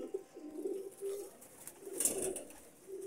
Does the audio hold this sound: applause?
no